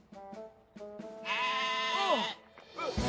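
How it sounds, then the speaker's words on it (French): Cartoon sheep bleating in a flock, several wavering, high-pitched bleats from near and mid distance, one long bleat in the middle that falls in pitch, with a lower bleat at the end. "On a rassemblé le troupeau de moutons."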